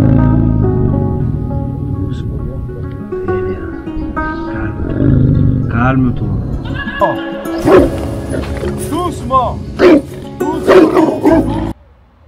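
A roughly two-year-old Tibetan mastiff being rescued growls deeply and lets out loud, close barks and snarls in bursts, while a person speaks softly to it.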